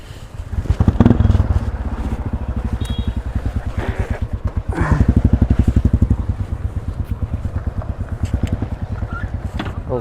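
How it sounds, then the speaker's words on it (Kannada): A motorcycle engine chugs steadily at close range with a low, rhythmic pulse as the bike is ridden aboard a boat on the Konkan coast, with a louder burst of throttle partway through and scraping, clattering noises around it. "ನನ್ನ ಗಾಡಿ ಬೋಟ್ ಒಳಗೆ ತೊಗೊಂಡು ಹೊಂಟೀನಿ"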